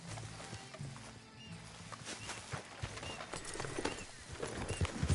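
Horse hooves clip-clop at a steady walking pace in Red Dead Redemption 2, fairly near, with outdoor ambience and no talking.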